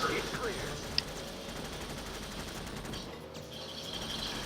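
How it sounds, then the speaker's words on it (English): In a vehicle combat video game, steady machine gun fire rattles on in a dense continuous stream, fairly loud, with game sounds and an undertone of a voice. "Man, these machine guns don't overheat at all."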